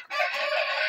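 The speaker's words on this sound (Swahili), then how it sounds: "Hawa jogoo wakiwika kwako" Roosters of improved kienyeji chicken breeds such as Kenbro and Sasso crowing on a Nairobi farm, one loud close crow sustained for nearly a second with no talk over it.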